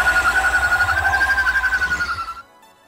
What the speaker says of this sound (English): that's my take on the Black Siren Sonic Scream / Canary Cry from Arrow and Flash